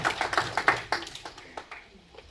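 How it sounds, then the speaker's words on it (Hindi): An audience at a Hindi-language literary seminar claps in a quick burst of sharp, close hand claps that thins out and fades over a couple of seconds. "और बजाइए आप ताली बजाइए"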